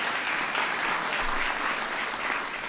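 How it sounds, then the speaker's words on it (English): A crowd applauds steadily and loudly at a White House event welcoming the UConn men's and women's basketball teams, sustained clapping filling the whole stretch with no talk over it. "Give them a big round of applause."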